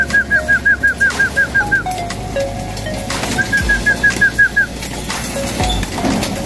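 Racing pigeons in a loft coo in rapid rhythmic trains while wings flap and shuffle nearby, the birds close and fairly loud.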